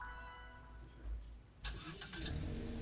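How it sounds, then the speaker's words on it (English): A Dodge Charger-based car in the Roblox game Car Crushers 2 idles with a low engine drone, then gives a couple of short revs and bursts of louder engine noise, heard fairly faintly. "Oh, listen to that nice engine"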